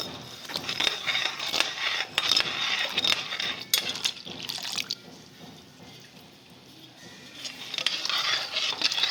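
A semolina and milk mixture for halwa is stirred without pause in a pan, giving wet slapping, dripping and scraping in an irregular rhythm, close by, that softens briefly midway. Nobody speaks.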